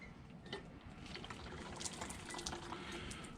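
Hot water trickles and splashes faintly from a spout into a small tank, a soft continuous pour with light bubbling and clicks, quiet and close with no talking.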